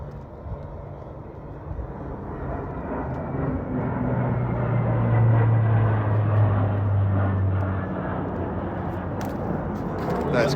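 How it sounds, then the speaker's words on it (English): Military planes fly overhead, a broad engine roar that swells to a peak midway and slowly fades, steady and moderately loud with no talking. "there was a couple of military planes that flew over"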